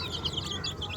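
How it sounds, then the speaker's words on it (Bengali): Small baby chicks chirp in a steady stream of high, overlapping peeps while being fed cooked rice feed, with the busy cheeping close and continuous. "ছোটো ছোটো মুরগি বাচ্চাগুলো একটু খাবে।"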